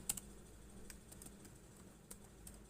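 A few faint keyboard taps enter text into a spreadsheet cell, irregular and widely spaced, one crisp click at the start and another near the end over a low background hum.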